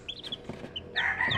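A newly hatched chick in an incubator gives a few thin, high peeping chirps, close and fairly faint, with soft rustling underneath and no voices.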